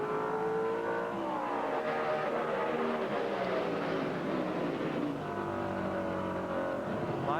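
NASCAR super trucks roar down the back straightaway in a 1998 race, engine notes rising and sliding in pitch as they pass at a distance, with a commentator talking over them.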